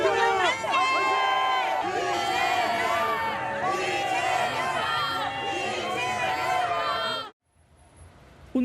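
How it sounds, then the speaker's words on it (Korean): Supporters cheer and shout in a dense crowd as the presidential motorcade arrives at the Cheong Wa Dae presidential compound in Seoul, a loud, continuous swell of voices that cuts off abruptly near the end. "이 대통령 출근 차량 행렬이 들어서자 지지자들이 환호합니다."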